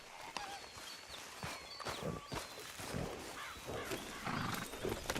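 A horse in the Red Dead Redemption 2 video game gives faint whinnies and snorts among scattered hoof clops and outdoor ambience. All of it is soft and intermittent, with no talk.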